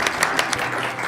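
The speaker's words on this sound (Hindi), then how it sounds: "तालियां।" Brief applause from a studio audience on a Hindi radio show, a few sharp claps standing out over a dense, steady patter.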